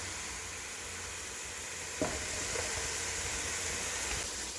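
Garlic and Italian seasoning sizzle steadily in a hot pot for white lasagna soup, a constant frying hiss with a sharp scrape of stirring about halfway through and lighter stirring after, no voices.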